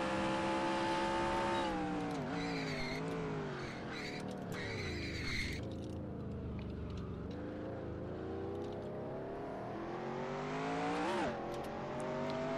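A race car engine in NASCAR Racing 2003 roars steadily as the car slides and drifts through a corner, pitch dipping and climbing with throttle changes, loud and continuous with brief tire scrub.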